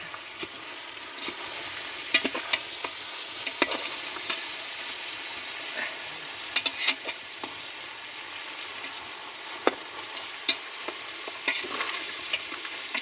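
Mutton sizzles in a pot over a village cooking fire, a steady soft hiss broken by scattered clicks and scrapes of stirring.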